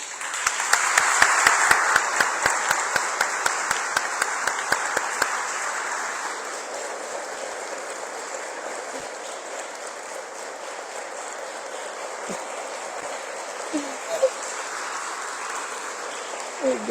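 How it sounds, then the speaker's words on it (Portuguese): An audience at an in-person lecture applauds with dense, steady clapping for about six seconds. The clapping then fades into quiet room ambience with a few faint knocks. "Ela merece agora a salva de palmas."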